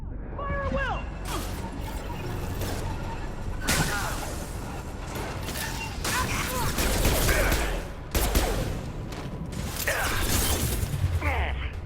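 Sci-fi gunfire from a Mass Effect 2 firefight, with bursts of shots and mechanical clatter in a busy combat mix, loud and continuous, with voices calling out between volleys.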